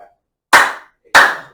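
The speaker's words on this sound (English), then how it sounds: "Wow, that's a really loud clap." Two sharp, loud hand claps in a physical science classroom demonstration, each a single crisp crack with a short decaying tail, separated by about half a second of silence.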